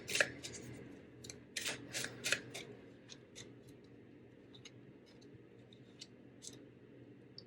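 Tarot cards are shuffled close by in quick riffling bursts at first, then give way to sparse, soft ticks and taps from the cards.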